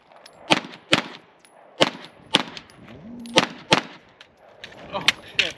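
Canik TP9 pistol fired at a USPSA match, a quick string of about ten sharp, loud shots in irregular pairs and singles, with a faint metallic ring.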